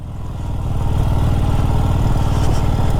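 A 48-year-old Honda motorcycle climbs a mountain trail, its engine revving up and holding a steady, loud, buzzing drone close to the microphone.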